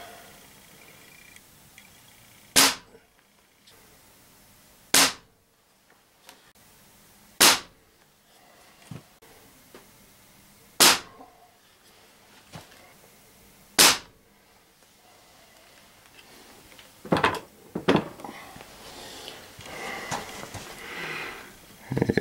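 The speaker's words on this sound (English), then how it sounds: "we will be shooting some RWS 7-grain lead pellets" A Ruger Air Hawk Elite .177 air rifle fires RWS 7-grain lead pellets: five sharp, loud cracks spaced a few seconds apart, followed by quieter clicks and handling noises near the end.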